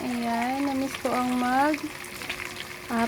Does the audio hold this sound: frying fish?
yes